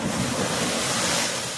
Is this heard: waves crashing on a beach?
yes